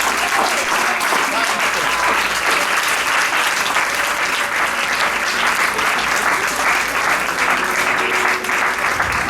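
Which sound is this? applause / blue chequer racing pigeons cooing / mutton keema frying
applause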